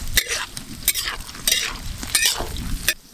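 Mustard seeds, cumin, curry leaves, chopped onion and green chilli temper in hot oil, a brisk sizzle punctuated by several quick stirring scrapes in a short, close burst.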